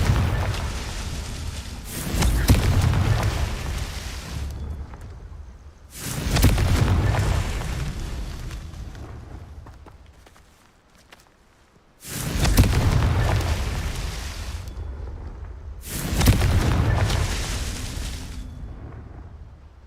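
Four heavy spell explosions from the Confringo curse in a Harry Potter video game, each a deep booming blast that rumbles and decays over a few seconds, loud and close with brief pauses between them.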